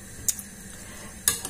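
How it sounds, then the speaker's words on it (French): A utensil stirs food in a pan, giving two short scraping strokes a second apart over a faint background sizzle. "On va mélanger bien comme il faut."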